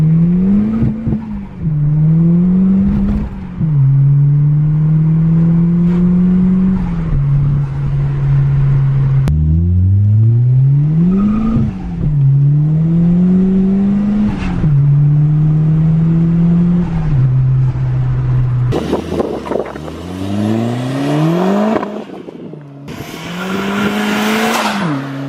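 A 230 bhp series one Ford Escort RS Turbo engine revs hard while driving, rising through the gears in repeated loud climbing surges and dropping back between shifts, with turbo whistle and road rumble throughout.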